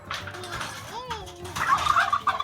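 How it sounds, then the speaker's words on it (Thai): A turkey on a small farm lets out a single rising-and-falling gobble close by, amid faint background noise and light activity. "นี่ไก่งวงนะครับ"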